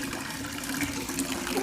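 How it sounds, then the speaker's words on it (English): Engine coolant gushing out of a drained Toyota Yaris T Sport, a continuous close splashing pour of liquid with a steady tone through the whole short stretch. "Isn't it crazy how it just comes gushing out?"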